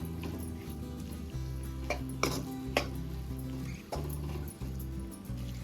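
A spoon stirs ground peanut and coconut powder into capsicum kurma in a pan, giving a few scraping clinks against the metal over a steady background tone with no talking.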